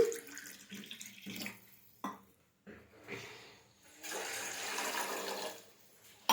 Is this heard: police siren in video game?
no